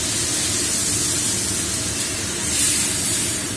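Water poured into a hot frying pan of lightly fried raw green banana and potato pieces, bursting into a loud, steady steam hiss and sizzle that swells briefly near the end, with no talking.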